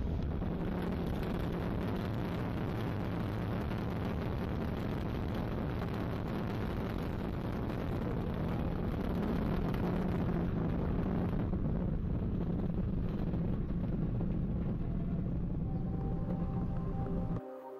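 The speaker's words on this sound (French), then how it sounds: "Allumage Vulcain, allumage des deux EAP et décollage VA244." Ariane 5 rocket igniting its Vulcain engine and two solid boosters for liftoff on flight VA244, a dense, continuous roar that stays loud and steady throughout before cutting off abruptly at the end.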